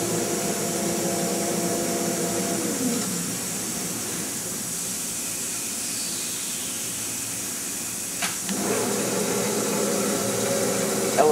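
Simplimatic PCB magazine handler running its homing sequence at the end of a production line, a steady loud mechanical whir and hiss with a short sliding sweep and a clunk near the end.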